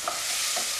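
Tomatoes go into a hot pan for a tomato gravy with broccoli and fry with a steady, loud sizzle, while a spoon stirs through them with soft scraping sounds.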